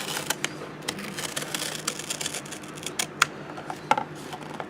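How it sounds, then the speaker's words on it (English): Small craft knife slicing paper along an edge for a handmade junk journal, with a string of soft scraping and ticking cuts, close and fairly quiet, plus a couple of sharper clicks. "And I'm just going to take and cut right along this edge"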